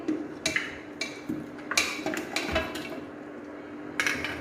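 Beef trotters clatter and clank against a metal pressure cooker in several irregular knocks, close by, with no talking.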